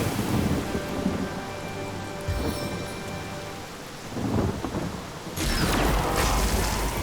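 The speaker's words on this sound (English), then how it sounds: "Rain nurtures our land." Game audio from Divinity: Original Sin, where a cast rain spell produces a steady loud downpour with rumbling thunder, swelling again into a heavy rush of rain near the end.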